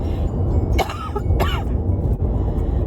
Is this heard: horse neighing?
no